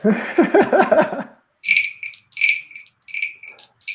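A handheld cricket-sound instrument chirps in short, bright, rhythmic bursts with gaps between them, close and clear, following a brief laugh at the start.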